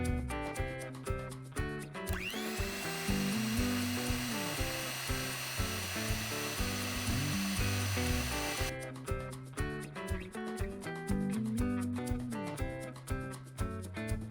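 An electric mixer on low speed whirs steadily for about six seconds, blending dry ingredients into an egg mixture for brownie batter. A rhythmic music track plays before, during and after it.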